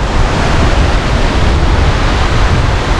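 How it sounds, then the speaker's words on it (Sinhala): Water pours over the top of Laxapana Waterfall near Nawalapitiya, Sri Lanka, a loud, dense, unbroken roar of falling water that fills the whole moment. "එතකොට මෙතනිනුත් පහළට වතුර වැටෙනවා."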